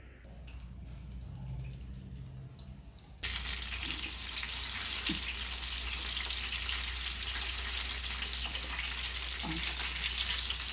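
Batter-dipped, masala-stuffed eggplant bajji frying in hot oil, a steady dense sizzle that starts abruptly after a quieter moment and continues close and even, with a few small pops and no talking.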